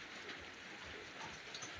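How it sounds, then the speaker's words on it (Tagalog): Steady rain falls outdoors after a long hot spell, a constant close wash of hiss and patter with no gaps and no voices. "Sa mahigit 2 buwan na sobrang init talagang ngayon lang ito umuulan."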